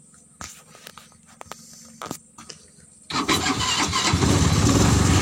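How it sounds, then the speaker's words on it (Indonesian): A car fitted with a motorcycle engine is started with a motorcycle-style hand starter: a few scattered clicks and clunks, then the engine catches at about three seconds and settles into a loud steady idle. "Kontaknya seperti ini saja teman, seperti kontak motor, dan juga starternya juga starter tangan seperti starter motor"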